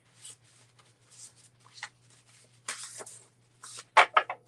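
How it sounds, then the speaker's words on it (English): A small stack of paper cards in Stampin' Up! Brights colors is shuffled by hand, giving soft rustling riffles that build into a few louder, sharper snaps and flutters near the end, close and alone with no talking. "I'm going to shuffle these"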